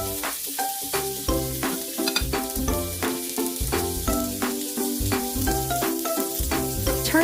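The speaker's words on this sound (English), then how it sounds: "Let's grill the marinated salmon first." Marinated salmon sizzles on a grill, a steady hiss running beneath loud rhythmic background music.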